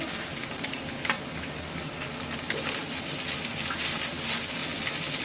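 Boiled pulao rice for a Chinese-style fried rice is stir-fried in a hot pan, giving a steady close sizzle with scraping and tossing sounds throughout.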